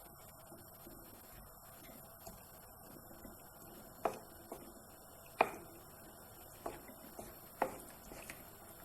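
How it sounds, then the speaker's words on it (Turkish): A knife taps a cutting board in sparse, irregular chops through onions, faint and close, over a steady low room hum. "2 adet soğanı ince ince doğradım."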